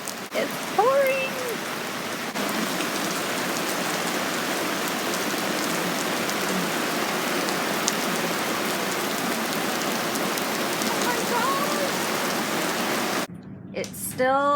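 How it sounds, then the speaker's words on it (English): Heavy rain pours steadily in a dense, hissing wash on Governor's Island, with a few brief voices and birdlike chirps faintly audible beneath it. "It's pouring."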